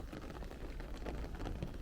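Rain falls steadily during a street walk in Bensonhurst, Brooklyn, a soft continuous patter with a low rumbling background, fairly faint and without voices.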